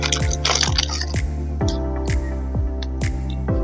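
Soaked biscuits are worked by hand into a fishing bait dough, giving a regular series of wet squelching slaps, about one every half second, close up and without speech.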